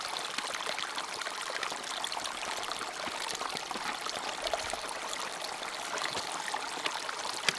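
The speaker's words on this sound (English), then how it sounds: "time to filter some water" Water trickles and pours steadily during filtering on a hike, a constant bright splashing with no voices.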